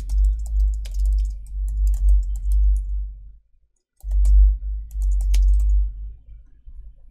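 Keys clicking steadily as code is typed on a computer keyboard, two bursts of close, light tapping separated by a brief pause, with no talking.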